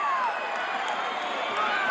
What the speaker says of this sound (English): They're roaring for Tito.